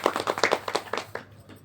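A short burst of audience clapping at a Hindu wedding ceremony during the seven vows, a dozen or so quick, close claps that stop abruptly.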